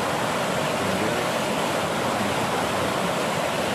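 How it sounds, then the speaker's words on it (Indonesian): Water pours over an old Dutch-built dam from the 1800s, a loud, steady rushing roar that fills the whole stretch without pause, with no voices. "Yang kelihatan jatuh di atas itu air."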